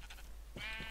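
Blocky sheep from the video game Minecraft bleats twice in quick succession, a short wavering cry standing alone, close and moderately loud.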